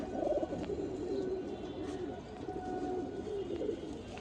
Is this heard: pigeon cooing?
yes